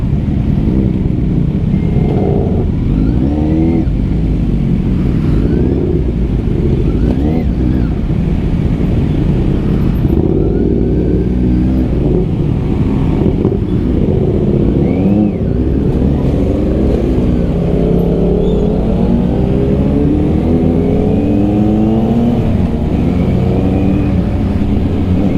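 A BMW GS Adventure big bike passes in stop-and-go traffic, its engine droning loud and close, rising and falling with revs over a steady wash of surrounding vehicle noise throughout.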